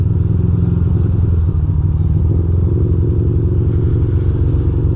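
A heavy engine rumbles loudly and steadily throughout, a deep low drone with rattling clatter, like a big truck running close by.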